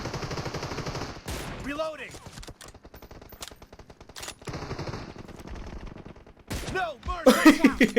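Gunfire in the mobile battle royale game PUBG Mobile during an 8-versus-8 match, with rapid automatic bursts and scattered single shots at moderate loudness, mixed with game noise and excited talk from players.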